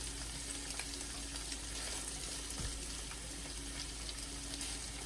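Shredded beef for keto vaca frita sears in a hot pan with a steady, continuous sizzle and crackle at moderate volume, and nobody speaks.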